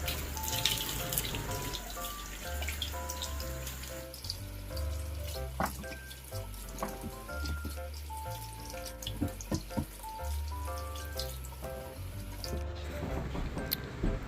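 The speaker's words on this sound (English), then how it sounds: "First, we need to wash our potatoes." Baby potatoes being washed under running kitchen tap water, a steady splashing stream with knocks and rattles of the potatoes as they are handled, heard alone and close, with light background music.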